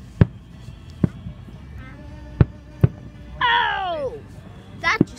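Fireworks at an outdoor display burst in a handful of sharp, spaced pops, then a loud whistling, crackling streak, with children and adults talking nearby.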